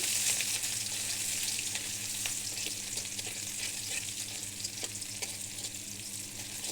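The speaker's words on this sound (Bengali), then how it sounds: "এটা একটু ভাজা ভাজা হয়ে গেছে এখন আমি পেঁয়াজ কুচি দিয়ে দিলাম" Chopped onions drop into hot oil already sizzling with cumin and bay leaf, producing a dense close crackling sizzle with scattered sharp pops and light stirring, no voices.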